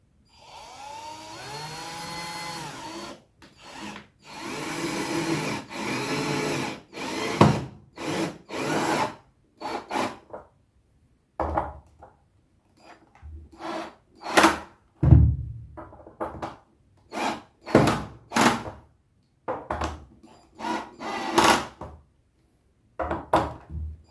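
Power screwdriver driving screws into a sealed wooden speaker box, a long steady whir at first, then a run of short, separate bursts as screws are driven home one after another, close and fairly loud with no talking.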